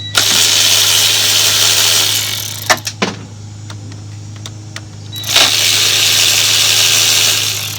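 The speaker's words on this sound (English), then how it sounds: "you're gonna use a Torx 30 to get those out" A power driver with a Torx 30 bit spins screws out of the coil packs on a Mercedes W212 engine, two loud buzzing runs separated by a pause filled with faint clicks and taps.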